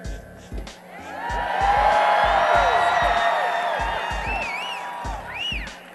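A large outdoor crowd at a Barack Obama campaign rally in Madison, Wisconsin cheers and whoops, swelling to a loud, sustained roar with scattered shouts and whistles before easing off.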